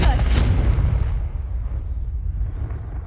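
Confringo blasting spell in Hogwarts Legacy: a single loud, deep blast that hits at once and then rumbles away over a few seconds, heard alone.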